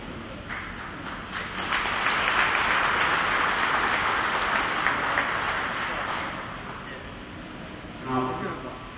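Loud, sustained audience applause in a hall during a political speech, a broad continuous wash of clapping and crowd noise lasting most of the clip, with a voice briefly emerging near the end.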